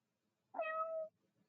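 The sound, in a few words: cat meowing in the video game Steam Prison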